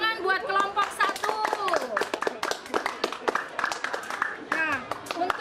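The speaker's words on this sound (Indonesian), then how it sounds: "Berikan tepuk tangan buat kelompok 1" A school class claps for a group of students, a burst of scattered applause mixed with children's chatter and voices throughout.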